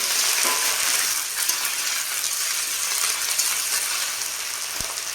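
Onions with ginger-garlic paste fry in a pan with a loud, continuous hiss of hot oil, broken by occasional small clinks and scrapes.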